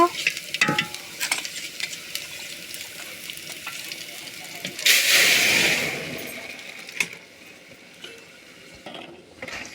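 Dal poured into a hot pan and stirred, giving a loud burst of sizzling and frying midway with scraping spoon strokes before and after, settling into a softer crackle.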